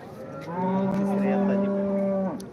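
A cow at a cattle market in Modnimb gives a single long, loud moo lasting nearly two seconds, with faint market background around it.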